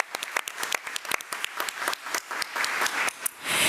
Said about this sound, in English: Let's give Easton Moore another round of applause.